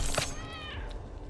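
A single short cat meow sounds in the card game Deck of Haunts, a brief, fairly close cry that fades quickly.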